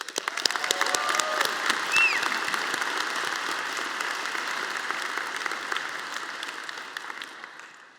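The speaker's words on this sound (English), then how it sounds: "So graduates, let's give ourselves one big round of applause." Graduates applauding at a commencement ceremony, a broad wash of clapping from a large crowd in a big hall, heard at moderate distance with faint cheers mixed in, gradually fading out.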